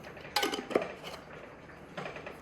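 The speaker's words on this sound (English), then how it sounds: "Just use a little knife and mix it in with the flour, nice and even." Salt being mixed into fresh-ground whole wheat flour with a small knife in a bowl: a few sharp clicks and scrapes of the blade against the bowl, then softer stirring, close and quiet.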